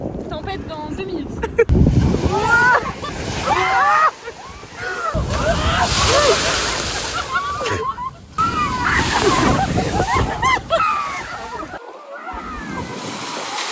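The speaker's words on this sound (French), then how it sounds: "on retourne voir les vagues parce qu'on en a jamais assez finalement" Ocean waves wash and slosh onto a windy beach at Camaret-sur-Mer in stormy weather, loud surges rolling in and out with gusts buffeting the microphone, while people talk and shout close by.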